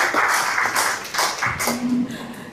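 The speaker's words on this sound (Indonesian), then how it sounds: "boleh tepuk tangan dong." An audience at a seminar gives a short round of clapping in a few uneven bursts, with sparse claps and thumps between them. A voice comes in briefly near the end.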